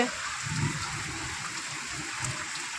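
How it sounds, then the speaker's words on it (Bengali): Steady heavy rain hiss fills the space, a broad constant wash of falling water with faint low rumbles and a voice murmuring briefly underneath. "ভালোই কিন্তু বৃষ্টি পড়ছে"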